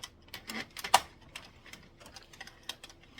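Addi circular knitting machine being loaded with Lion Brand Pound of Love yarn, giving light irregular plastic clicks and ticks with one sharper clack, close and quiet, no voices.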